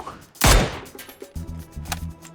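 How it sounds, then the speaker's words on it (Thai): A warning shot in the video game PUBG goes off as one loud, close gun blast, followed by softer thumps and low game sounds. "ยิงขู่"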